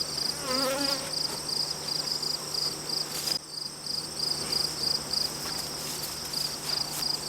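Honeybees buzzing around an open backyard hive in Swanzey, New Hampshire, a dense steady drone with individual bees whining close by, no speech.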